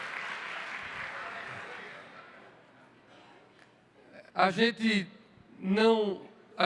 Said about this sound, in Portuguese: Essas palmas eu gostei.